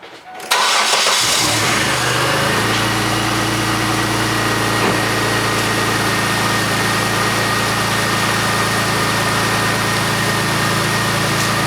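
A car engine cranks and catches, then settles into a steady, even idle that runs close and loud throughout, with a cooling system pressure gauge attached during the test.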